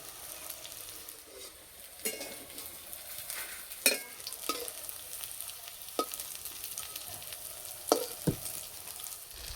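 Drumstick flower and fish fritters frying slowly in oil, a soft steady sizzle broken by scattered sharp clicks from stirring.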